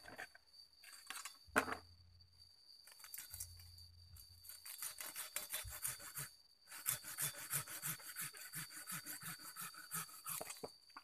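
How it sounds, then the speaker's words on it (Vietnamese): Handsaw cutting through a wooden part while pruning the roots of a cascade-style bonsai tree, steady rasping strokes repeating closely and loudly across most of the clip, with a brief pause near the start. "Cưa nhá."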